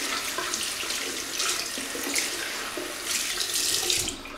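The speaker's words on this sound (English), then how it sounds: "Just going to rinse the hands." Tap water runs steadily into a sink as hands are rinsed before shaving with a bay rum shave soap, a broad continuous hiss with small splashing surges, close and fairly quiet.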